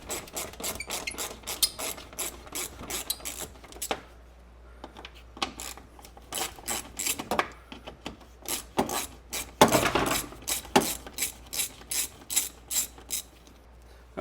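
Ratchet cranking out 10 mm bolts from a Subaru radiator fan, rapid clicking bursts in repeated strokes with short pauses, close and crisp, no talking.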